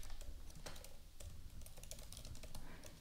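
Quiet, quick typing on a computer keyboard while building a web page in HTML and CSS, a continuous run of light clicking keystrokes with no talk.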